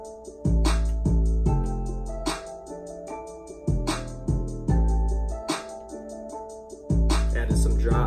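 A produced hip-hop beat with punchy drums and a guitar counter melody in place of the main melody plays alone at steady volume, with heavy kick hits and bright repeating accents.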